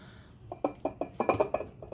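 Lemons pressed into a glass jar for preserving, giving a quick run of close clinks and knocks against the glass, about a dozen light taps in under two seconds.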